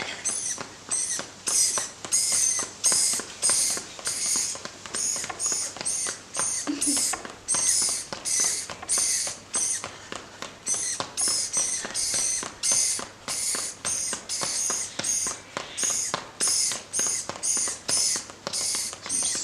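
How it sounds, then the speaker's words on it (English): Continuous busy bird chatter and chirping in Melbourne fills the space, loud and dense, with rapid repeated calls layered throughout. "Super noisy birds are in here."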